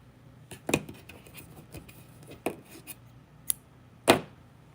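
Scissors are picked up and handled amid scattered clicks and clinks, a few sharp close knocks with quiet pauses between them and no talk.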